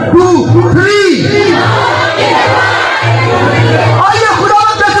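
A church congregation at an Urdu-language sermon shouts a slogan in unison, the loud massed voices rising and falling in repeated chant-like bursts, with a steady hum underneath.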